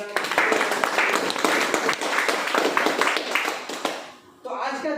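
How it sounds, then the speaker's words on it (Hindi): Audience at a training seminar giving loud, sustained applause, many hands clapping together for around four seconds, then dipping briefly before a voice starts speaking. "तो और एक बार जोरदार तालियां हमारा।"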